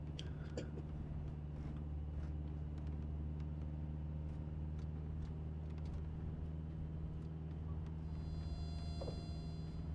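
Light aircraft in the Deadstick flight simulator: a steady low engine drone with rumble that holds constant and close, with faint ticks scattered over it and no talk.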